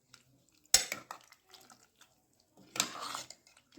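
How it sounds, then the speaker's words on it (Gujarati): A spoon stirs brinjal and potato curry with green coriander and green garlic in a pan, making two sharp metallic knocks against the vessel separated by quieter soft scraping. "હલાવી દઈશું."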